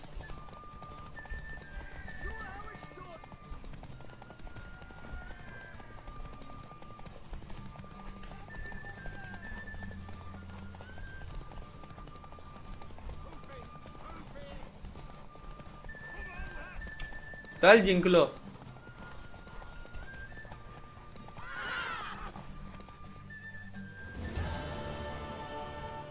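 Hooves clip-clop steadily as a horse gallops in a race in The Witcher 3, under game music and talk, with a few louder bursts near the end.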